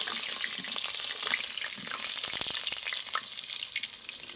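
Cut potatoes frying in oil with whole black pepper and white cumin, making a loud, continuous close-up sizzle with scattered crackles and pops throughout.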